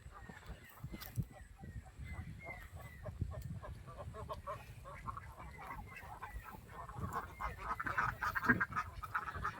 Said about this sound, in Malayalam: അതിമനോഹരമായ താറാവുകൾ.